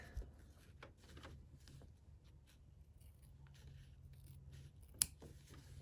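Scissors snip through the bulky fabric seam of a blouse cuff, making quiet, close, scattered cuts with one sharper snip near the end.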